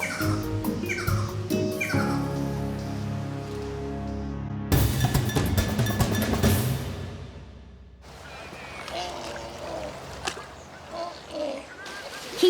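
Birds of paradise call at Chester Zoo in varied bursts of chirps and tonal cries, some loud and close. Rustling, splashy sounds come between the calls.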